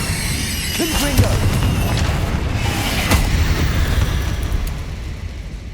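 Deep booming blast from a Confringo fire spell in Hogwarts Legacy, loud rumbling explosion with a sharp crack around the middle, mixed with game effects and a voice calling out.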